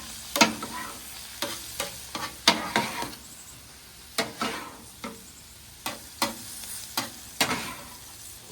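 Hibachi steak and fried rice on a griddle, a soft steady sizzle broken by repeated sharp clicks and scrapes of a spatula against the hot surface, close up, with no talking.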